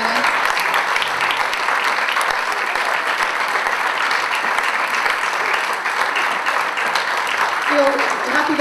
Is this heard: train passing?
no